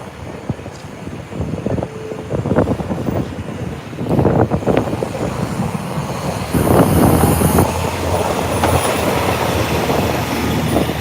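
A New York City train runs along the rails, with steady rumbling clatter, bursts of wheel squeal and wind buffeting, growing louder and denser toward the end.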